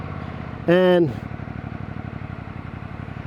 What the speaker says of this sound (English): Listen to this, even the stock exhaust, it pops and crackles at times too, and it does the burp when you shift